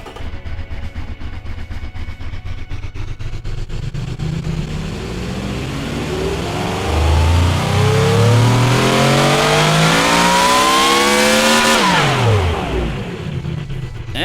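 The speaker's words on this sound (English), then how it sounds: "So, let's rev." A simulated high-performance car engine in the game Automation revs from idle, climbing in pitch to a loud peak, holding briefly, then dropping quickly back toward idle.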